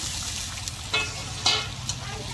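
Spices and vegetables fry with ginger and chillies in a pan, giving a steady close sizzle with a few short scraping stirs.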